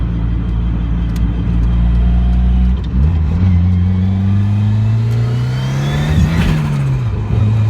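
A Ford Sierra RS Cosworth three-door, driven for the first time in nine years, revs hard on the move, its engine note climbing steadily, dipping briefly, then rising again, loud and close with continuous road rumble and no talk.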